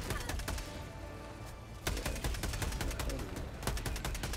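A cannon fires repeatedly in a video game, dense rapid blasts that run without a break and turn into a sharp rhythmic volley in the second half, loud and close, with no speech.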